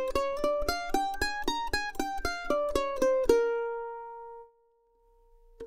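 A mandolin picks a modified pentatonic scale, with about fourteen crisp, evenly spaced plucked notes ascending close up, then the last note rings out and fades to near silence.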